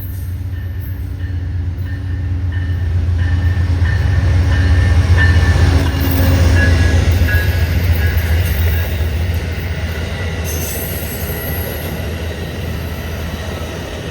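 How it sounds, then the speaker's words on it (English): An Amtrak Cardinal passenger train, which runs New York to Chicago, rolls past close by with a loud steady rumble that swells in the middle and then eases, plus faint wheel squeal. "But this is Amtrak. This is the Cardinal. Runs New York to Chicago."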